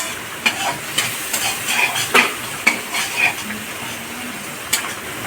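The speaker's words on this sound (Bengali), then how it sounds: "মশলা থেকে তেল ছেড়ে গেলে তখন আমার মশলা কষানো কমপ্লিট হয়ে যাবে" Spice paste sautéing with potatoes and grated capsicum in hot oil, a steady sizzle broken by repeated clinks and scrapes of a spoon stirring against the pan.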